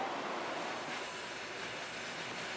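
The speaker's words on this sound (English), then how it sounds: "The train's on the move again" A train rolls through mountains with a steady rumbling rush and faint wheel clatter, continuous and fairly close throughout.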